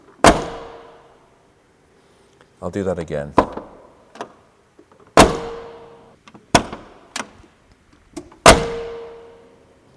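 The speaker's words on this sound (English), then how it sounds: "I'm just going to open this door and close it" A Ford Capri 280 Brooklands car door slams shut several times with solid, ringing thunks, each followed by a brief metallic hum; someone speaks briefly between slams.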